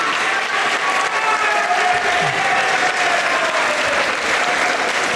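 Steady, loud applause from an audience fills the room after a speaker asks them to thank an assistant named Josh, with a few faint voices and whistles in the crowd.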